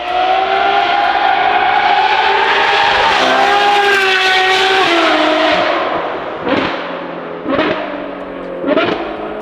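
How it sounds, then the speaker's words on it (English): A Ferrari 812 GTS engine and exhaust roars loudly and steadily, pitch climbing and falling, then several sharp revving bursts near the end. "You guys have seen a couple of videos of what these cars sound like."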